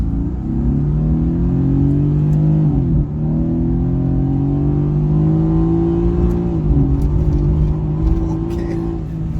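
A Mercedes-Benz AMG GT-S in manual mode accelerates hard, its engine roaring loud and close with rising harmonic pitch, two brief dips marking quick gear shifts before climbing again.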